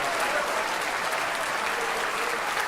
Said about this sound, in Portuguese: vamos aplaudir mais, igreja.